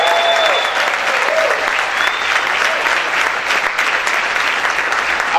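Worshippers at a church service clap loudly and steadily throughout, with shouts and cheering voices cutting through the dense applause.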